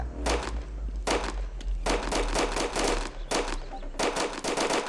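Gunfire from a shooting video game: rapid automatic bursts repeat in several clusters, loud and close, with short gaps between volleys and no talk over them.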